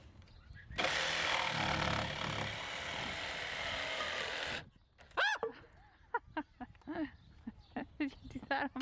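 A power jigsaw cuts through a wooden post, buzzing loud and steady for about four seconds before stopping abruptly. People then talk with short exclamations.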